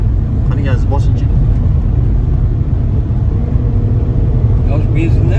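Inside a Chevrolet Captiva on a test drive after a Stage 1 tune, a low engine rumble holds steady under the cabin while people talk over it.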